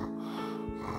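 A doctor imitates a snore with his voice: one close, steady, rasping snort lasting about a second.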